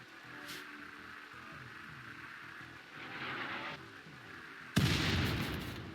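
Muffled booms and rumbling from mortar fire in the video game RimWorld over a steady low drone, with a sharper, louder blast near the end.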